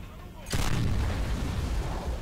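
Gunfire in the shooter game Gears of War breaks in abruptly as a loud blast, then rolls on as a dense, sustained roar of shots and booms.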